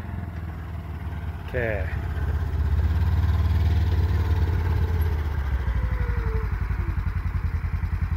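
The engine of a rebuilt Ranger runs while it is driven, a steady low rumbling drone that climbs as it gets going, with a gear clunk early on and a brief spoken word over it.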